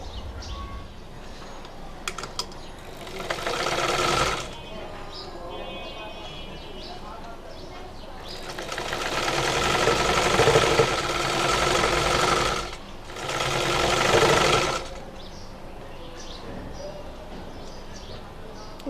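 A sewing machine stitching a fabric sleeve, running in three loud bursts with pauses between, while someone talks over it and a faint background hum continues.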